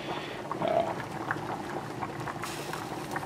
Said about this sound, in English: we got my mashed potatoes here. They're nice and boiling.